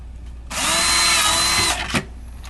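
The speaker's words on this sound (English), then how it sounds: "putting the holes in where the hardware needs to go using a very sharp drill bit" A power drill with a very sharp bit bores a hole through a laminate-covered drum shell, a single loud, close whirring burst of just over a second followed by a short knock as it finishes.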